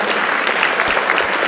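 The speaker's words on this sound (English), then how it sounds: "I just want to give a round of applause" An audience in a high school auditorium applauds an alumni pianist at a spring band concert, a loud, dense, continuous roar of clapping from the crowd.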